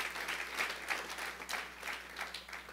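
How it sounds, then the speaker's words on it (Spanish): A church congregation claps for fellow members, a moderately distant, steady patter of many hands continuing throughout the short stretch without talk. "¿Cuántos le dan un aplauso a nuestros hermanos del home?"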